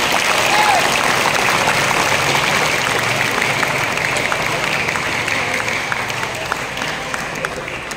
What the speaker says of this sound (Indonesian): Tepuk tangan dong buat Fasri.